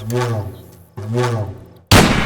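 Two drawn-out vocal-like tones followed by a single sharp, loud gunshot blast at the end.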